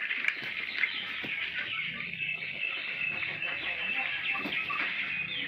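Turkeys in a backyard pen on a home farm on a winter morning, giving off a steady, busy stream of clucking and chattering calls at close range, with a few sharper squawks standing out, and no talking.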